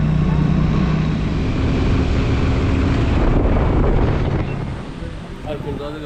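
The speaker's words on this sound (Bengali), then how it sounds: "দেখো সমুদ্রের ঢেউ।" Sea waves wash onto Puri beach in a broad, steady surf roar, heavily buffeted by wind against the microphone. It is loud at first, then eases off toward the end.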